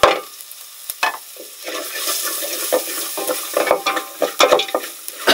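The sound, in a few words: garlic, chilies and ginger frying in pan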